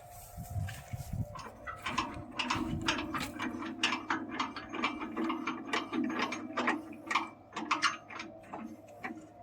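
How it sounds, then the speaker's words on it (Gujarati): A ratchet tightens a loose fastener on farm equipment with a long run of quick, evenly spaced metallic clicks, close by, after a brief rustle of handling at the start. "અત્યારે છે ને આકર ઢીલી છે આકર આપણે ટાઈટ કરી દઈએ"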